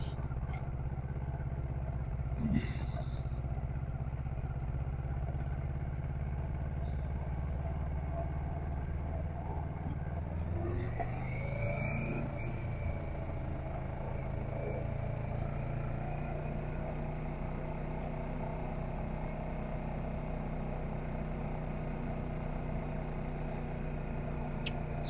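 A brand new motorcycle, its kickstand still down, drones with a steady engine note that swells into a rising rev midway, then settles back to a constant hum.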